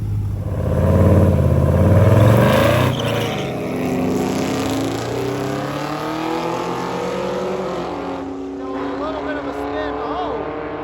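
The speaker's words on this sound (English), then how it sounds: "We had the Mercury truck back up, ready to try to make another pass" A Mercury truck makes a drag racing pass, its engine roaring loudly at the start and then holding a steady, slowly fading drone as it pulls away down the strip, with voices talking over it.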